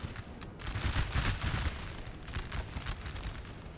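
Continuous rumbling battle din of artillery fire in Napoleon: Total War, dense overlapping booms and crackle from distant cannon on a mountain battlefield.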